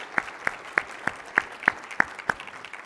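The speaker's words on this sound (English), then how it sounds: "And I think just another round of applause to them for pulling off an incredible meeting." At the awards and closing ceremony of a global scientific conference, sharp claps land in a steady, evenly spaced rhythm about three per second. They sit over a soft wash of scattered background applause.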